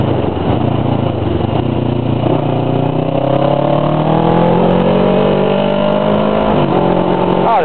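A motorcycle is ridden along a 70 km/h road in Taiwan, its engine droning steadily close by while the pitch rises and falls as it speeds up, with constant wind and road noise underneath.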